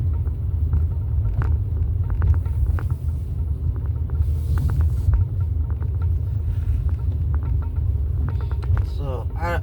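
Car interior on a drive to Home Depot, with a constant low road rumble and engine drone, small clicks and taps over it, and a person talking at times.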